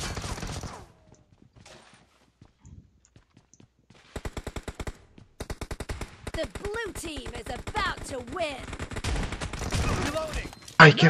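Rapid bursts of video game gunfire crackle in quick repeated volleys, starting sparse and growing denser and louder, with a few faint voices mixed in.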